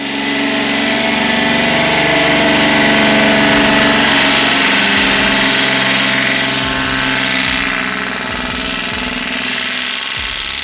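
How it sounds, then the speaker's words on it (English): A V12 logging truck engine running loud and close through mufflers, a steady heavy drone with Jake brake rumble, continuous with no talk. "Oh my gosh, that V12 sound is amazing. Even with mufflers, the Jake brake is still incredibly loud."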